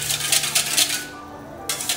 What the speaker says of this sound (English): We're going to whisk that together along with the rice vinegar.